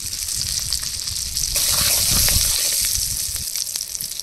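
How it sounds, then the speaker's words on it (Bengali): Whole garam masala, dried chillies and cumin hit hot oil with a loud, hissing sizzle that swells to a bright crackling burst midway, then settles into a steady fry. "তেলের মধ্যে দিয়ে দেবো গোটা গরম মশলা, শুকনো লঙ্কা, জিরা"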